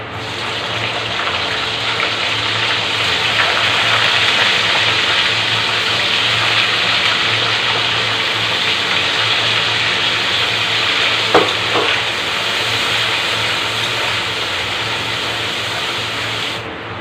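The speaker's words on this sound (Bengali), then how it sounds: "এবার দিয়ে নেব ছোট ছোট করে পেঁয়াজ কেটে রাখা দুটো বড় সাইজের" Chopped onions fry in a pan for a chicken curry, a steady sizzling hiss with occasional stirring scrapes, including a sharper clack near the middle.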